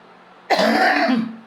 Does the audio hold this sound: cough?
yes